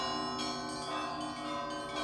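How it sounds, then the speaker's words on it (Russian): Church bells ring at an Orthodox temple in the village of Veshki near Mytishchi in the early morning, overlapping metallic peals sounding steadily and fairly loud, with no speech. "поселок Вешки, расположенный неподалеку от Мытищ, уже разбужен колокольным звоном"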